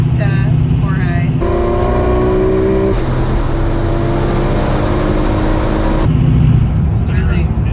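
A stock RB25DET NEO engine running E85 and making 720 whp pulls hard in a roll race, a loud, sustained engine drone with shifting tones heard from inside the car, and a voice over it.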